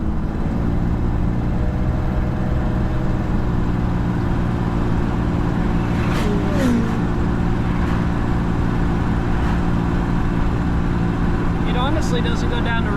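A car driving down the road with a steady engine drone and road rumble throughout, with brief faint squeaks and rattles from the cabin.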